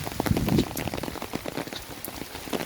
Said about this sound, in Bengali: পরন্ত বিকালবেলা আমাদের এলাকায় অনেক পর্যাপ্ত পরিমাণ বৃষ্টি হচ্ছে।